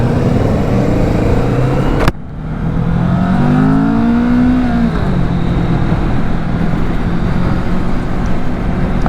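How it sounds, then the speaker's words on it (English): A 2024 Kawasaki Vulcan S motorcycle engine revving and accelerating, a loud close roar that cuts off sharply with a shift, then climbs again through rising pitch before settling into a steady drone. "The way Kawasaki makes this bike rev, kind of a higher revving bike, it really allows for some quick shifting"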